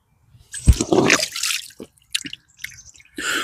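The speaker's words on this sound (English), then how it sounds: "Wash my hands in it first, I think." Hands splash and rinse in a cold mountain stream, with close, irregular bursts of sloshing water and drips broken by short pauses; no one speaks.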